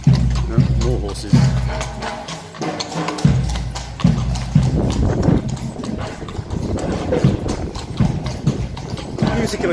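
Horse hooves clip-clop steadily in the Japanese video game Shisha no Buruju (Bruges of the Dead), a busy rhythmic patter with game music, heard under someone talking throughout.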